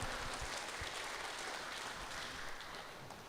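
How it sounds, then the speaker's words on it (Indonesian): A studio audience at a post-election radio dialogue in Bandar Lampung applauds, producing faint, steady clapping that continues evenly for a few seconds. "Tepuk tangan yang paling meriah untuk Dr."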